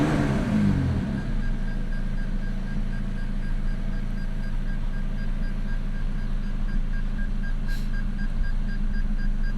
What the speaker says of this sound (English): Let's press the start button.